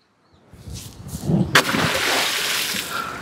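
Water pours and splashes heavily onto a wooden single bed, a loud close rushing slosh that builds after a quiet start and keeps going, with a sharp splatter midway.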